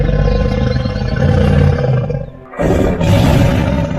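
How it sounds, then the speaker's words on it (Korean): A fierce tiger roars outside a cave in a loud, rumbling, sustained growl that breaks off briefly and then resumes just as strongly. "굴 밖에서 사나운 호랑이 울음소리가 들렸다"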